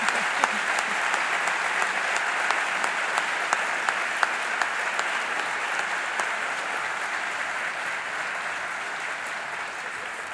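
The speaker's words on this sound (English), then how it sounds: "You may applaud." An audience at an awards presentation applauds community leadership award recipients with a steady, full burst of clapping that lasts about ten seconds, crisp individual claps standing out from the dense wash.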